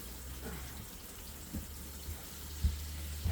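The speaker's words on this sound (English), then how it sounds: "Turn the water back on." Water running from a tap turned back on to fill a bucket while reclaiming dry clay, a faint, steady rush with a few soft knocks and no voices.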